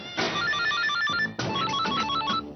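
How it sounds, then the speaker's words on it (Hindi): A telephone rings indoors during a Hindi TV drama scene, a bright electronic ringtone pattern heard loud and alone, with a brief pause before the melody repeats. "ये लो, जैस का फोन आ गया।"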